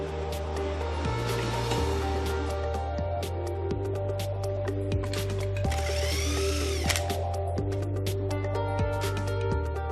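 Power tools tighten engine bolts on a Nissan GT-R assembly line, with repeated short bursts of whirring and ratcheting in a steady rhythm under a continuous factory hum.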